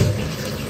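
Water poured into a pot of layered vegetable dum biryani, a brief steady gushing splash heard close up, with no talking.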